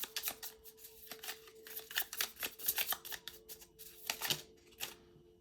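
A deck of tarot cards is shuffled and drawn, giving quick crisp riffling flutters and soft papery slaps in a close, quiet room, with brief pauses between bursts and a faint steady hum underneath.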